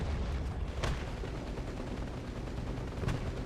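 Tank cannon fire from an M3 Lee in the War Thunder tank game, two sharp shots about two seconds apart over a steady low rumble of engine and battle noise.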